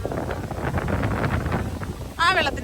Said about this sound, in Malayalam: എന്ത് കാറ്റാ, അയ്യാ കാറ്റും.